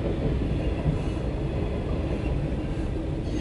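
A CSX mixed freight train rolls past close by, a loud, steady low rumble of wagons and wheels on rails with no pause or break.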